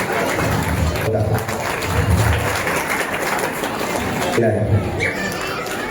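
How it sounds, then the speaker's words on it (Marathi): Applause fills a school gathering hall, with steady clapping from a crowded audience throughout while a voice speaks over it. "सर्वांनी जोरदार टाळ्या बाजू सात्विकचं अभिनंदन करायचं आहे"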